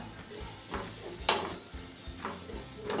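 Coconut being stirred into spiced curry in a pan, a spoon scraping and clinking against the metal in irregular strokes over a soft sizzle, close and moderately quiet, with one sharper scrape partway through.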